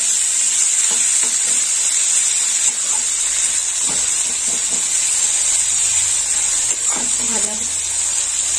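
Bitter gourd frying in oil, a constant hissing sizzle with occasional stirring clinks and scrapes; a voice talks faintly beneath it.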